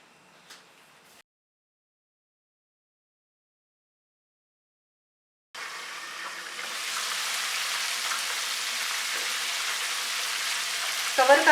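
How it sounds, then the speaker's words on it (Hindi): Chicken drumsticks fry under a lid in a covered pan, a steady soft sizzle that sets in after a short silence and holds evenly close by, with a brief faint voice at the start and end. "इसको मैं 5 से 7 मिनट के लिए कवर करके फ्राई करूँगी।"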